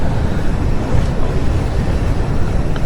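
Strong wind at a hilltop campsite, a steady loud roar buffeting the microphone for a few seconds with no speech.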